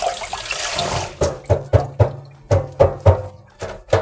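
Running tap water splashes over enoki mushrooms being rinsed in a sink, a steady flow broken by repeated louder sloshing bursts as the clusters are moved under the stream.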